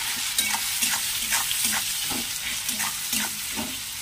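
Plenty of onions fry in hot oil for a fish curry, with a steady sizzle and rhythmic scraping stir strokes about every half second, close up and uninterrupted.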